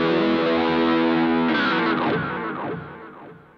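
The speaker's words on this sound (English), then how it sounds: "We've got six different types of wahs." Electric guitar through a Boss GT-100 multi-effects processor with a wah effect, distorted chords sustaining then sweeping and warbling as the tone shifts, loud and alone, fading toward the end.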